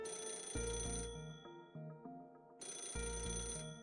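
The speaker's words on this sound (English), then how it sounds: "Phone call for you, Master Pickup." A telephone in Fate/Grand Order rings with a bright electronic trill in two bursts separated by a short pause, loud and clear alongside a soft musical background.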